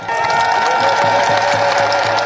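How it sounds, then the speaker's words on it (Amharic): A church congregation applauding and ululating together, a steady loud wash of clapping with high trilling voices running through it. "እልል ካላችሁ ወይ ካጨበጨባችሁ ጨመር አድርጉበት።"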